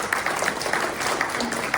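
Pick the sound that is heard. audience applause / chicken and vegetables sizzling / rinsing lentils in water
audience applause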